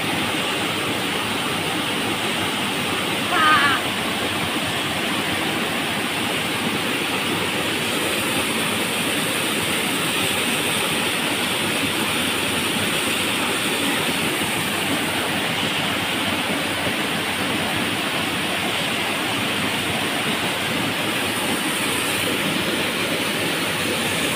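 Steady, loud roar of a waterfall in a canyon fills the whole stretch as a constant broadband rush, with no talking.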